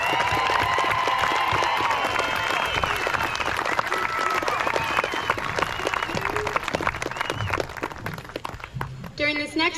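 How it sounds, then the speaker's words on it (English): Loud, sustained applause from a large crowd at a school commencement ceremony, dense clapping with some cheering and voices mixed in, continuing steadily throughout. "let's give these outstanding students a huge round of applause."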